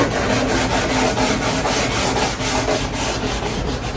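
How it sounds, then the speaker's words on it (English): Fiberglass 32 coupe car body being sanded with 320 grit paper, a close, loud, steady scratchy rubbing in rapid back-and-forth strokes. "we'll go over this with 320 and sand out any 80 grit scratches once we get done"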